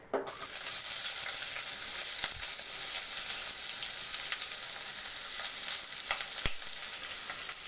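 Three sliced onions hit hot oil with a sudden burst, then settle into a loud, continuous hissing sizzle with a couple of sharp clinks from a utensil.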